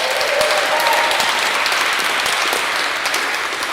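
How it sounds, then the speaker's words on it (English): Audience applause at a spoken word and waffle night, a dense, steady wash of clapping from a crowd, loud and continuous throughout. "give a round of applause to Poppy, who's over there, who put this whole thing together"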